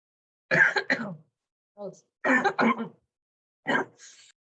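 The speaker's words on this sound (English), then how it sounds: "I think she has a dry cough right now." A series of short, dry coughs come in quick clusters with brief pauses between, close up and fairly loud with no other sounds around.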